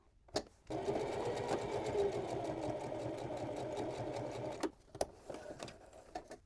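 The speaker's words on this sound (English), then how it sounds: "I'm just going to sew down each flap of the seam allowance along either side of the opening" A sewing machine stitches down the seam allowance flaps beside a drawstring opening on a fabric gift tote, a steady close mechanical whir with rapid needle ticking lasting about four seconds, bracketed by faint handling clicks.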